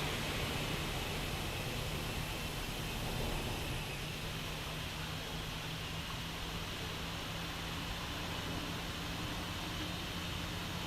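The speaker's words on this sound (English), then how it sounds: "I absolutely love the audio on these engines" Steady roar of Airbus A330 jet engines in the X-Plane 12 flight simulator, a continuous broadband whoosh with a low hum holding level throughout, no talk over it.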